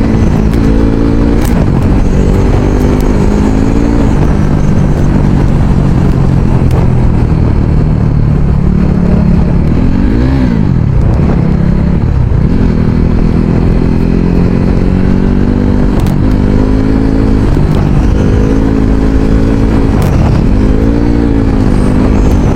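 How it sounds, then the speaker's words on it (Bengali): Motorcycle engine heard from the rider's position on a road ride, a steady loud drone with rising and falling revs and gear changes throughout, mixed with wind rush. "অনেকদিন পরে বাইক নিয়ে বেরিয়েছি"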